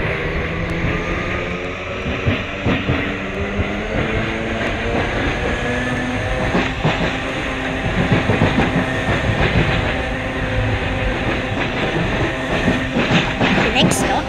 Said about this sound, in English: I can hear a tram and I really hope it doesn't go through us.